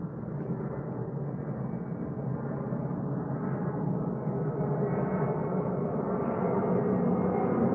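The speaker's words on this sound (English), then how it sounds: "loud ass goddamn plane" A loud airplane passing overhead gives a continuous, heavy broadband roar that stays steady for the full duration without fading. There is no talking.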